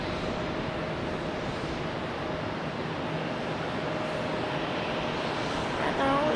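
A Boeing 777 at Charlotte Douglas International Airport gives off a continuous broad engine roar with a faint steady tone, moderately loud and unbroken, heard at night.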